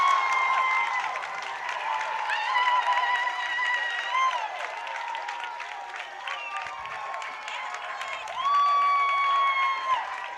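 High school football crowd from Holliston cheering and applauding after a touchdown against Franklin, a sustained roar of clapping and shouts with whistles and whoops rising through, swelling again near the end.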